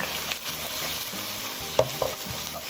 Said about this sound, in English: So I'm gonna break up my pork.